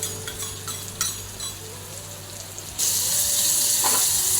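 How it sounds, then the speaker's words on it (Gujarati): Tomato, green chili and garlic sauté in a pan for dal fry, a steady close sizzle with light stirring clinks that suddenly grows louder and brighter partway through. "મિક્સ કરીને સાતળવા દેવાનું છે"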